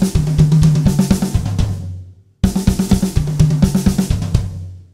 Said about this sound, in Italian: fare i passaggi con i tom e il rullante e andargli a mettere anche la cassa insieme